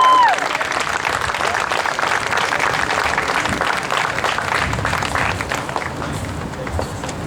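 Rally audience at a medical cannabis event applauding a speaker's welcome, dense sustained clapping and crowd noise from the start, slowly easing toward the end.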